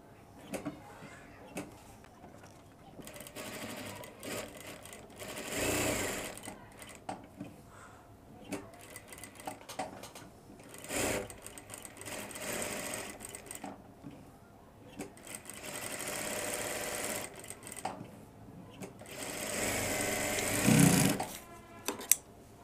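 A sewing machine stitches a shirt flap pocket in several short bursts of varying length, separated by pauses filled with fabric handling and light clatter.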